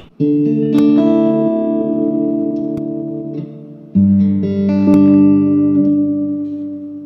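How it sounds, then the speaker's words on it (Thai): An electric guitar plays through a Fender Champion 100 amp with spring reverb. Two loud strummed chords ring out one after another, each sustaining and fading slowly with a lingering reverberant tail. "สุดท้ายแล้วมั้งรีเวิร์บสปริง"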